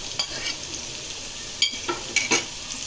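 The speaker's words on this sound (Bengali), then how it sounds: "সরিষা বাটা দিয়েও ভালো করে একটু ভেজে নিতে হবে।" Mustard paste and garlic frying in a pan for an eggplant chutney, with a steady low sizzle and a few sharp scrapes as the spoon stirs.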